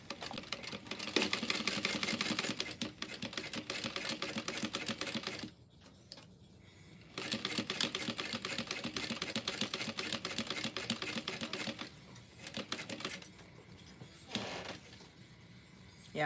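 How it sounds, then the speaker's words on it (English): A home sewing machine stitches a shoulder bag's zipper panel in close, steady bursts of rapid mechanical clatter, pausing briefly between runs before starting up again. "I'm just going to go ahead and sew this up"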